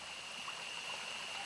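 Steady rushing and trickling of a cold jungle stream in Costa Rica as a body sits immersed in it, a continuous close water wash with no talking.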